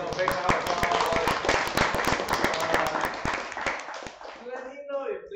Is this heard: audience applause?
yes